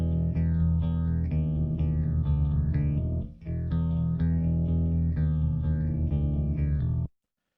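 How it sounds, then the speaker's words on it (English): A bass guitar track plays back steadily with sustained low notes and a slightly chorused, effected tone, pausing briefly midway before ending abruptly, with no voices. "what we've got here to start with is a bass guitar track"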